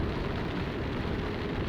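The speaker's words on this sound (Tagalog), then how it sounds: "Lakas ng ulan guys." Heavy rain pours steadily while riding a Honda Beat V2 motorcycle on a long trip from Manila to Samar, a loud, dense, unbroken wash of noise with no voices.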